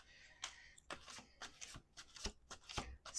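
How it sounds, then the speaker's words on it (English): Tarot cards are shuffled quietly by hand, a series of soft papery slides and taps in an irregular rhythm, faint and close with no one talking. "Let's do one more shuffle."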